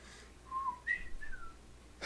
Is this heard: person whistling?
yes